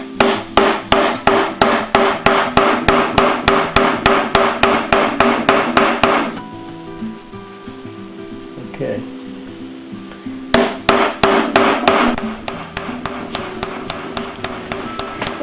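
A hammer pounds grommets into a sailboat mainsail laid over a table leg, landing rapid, loud, evenly spaced metallic blows in two long runs separated by a brief pause with faint background noise.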